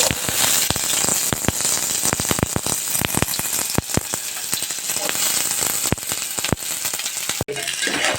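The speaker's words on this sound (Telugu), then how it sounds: "నూనె వేడెక్కిన తర్వాత మొదటగా మనం ఉల్లిపాయలు యాడ్ చేసుకోవాలి" Onions sizzling in a spoonful of hot oil in a pan, a dense steady crackle and spitting with frequent sharp pops and a brief clatter near the end.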